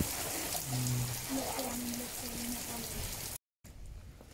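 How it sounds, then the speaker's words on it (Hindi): Steady heavy rain hisses throughout, with a voice murmuring faintly underneath; it cuts out briefly near the end before the downpour resumes more softly. "since it's raining very heavily now"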